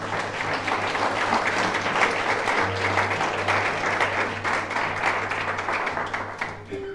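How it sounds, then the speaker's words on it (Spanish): A church congregation gives steady applause for about seven seconds during a Spanish-language sermon, a dense even patter of many hands over a low background hum. "Dale un aplauso al Señor."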